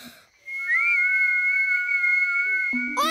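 A cartoon character whistles a clear, steady sustained note that rises slightly at the start, followed by a brief sliding sound effect at the end.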